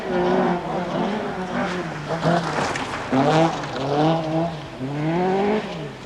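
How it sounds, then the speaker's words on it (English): An Opel Manta rally car races around the back of the course at a 1988 Race of Champions event, its engine note rising and falling through gear changes, fairly close and loud throughout with no talk over it. "No mistaking that Opel sound as he threads his way around the back of the course."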